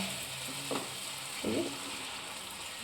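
Water poured into frying masala for dhaba-style paneer masala, giving a steady low sizzle with brief bursts of stirring and spluttering, moderately close and with no talk over it.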